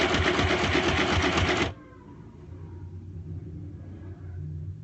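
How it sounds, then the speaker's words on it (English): A sewing machine stitches fabric rapidly and loudly up close for a couple of seconds, then stops, leaving a low background hum. "Okay, I'm gonna sew. It might be really loud"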